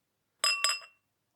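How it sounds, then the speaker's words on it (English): A couple of bright glassy clinks ring out close by, two quick touches against a beer glass as Nirvana Brewery Classic IPA is about to be poured, then silence. "We're going to pour into my vocation glass today"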